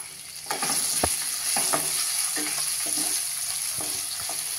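Small potato pieces frying in oil tempered with red chilli powder for sabudana khichdi, a steady close sizzle broken by repeated scraping stirs of a spoon against the pan.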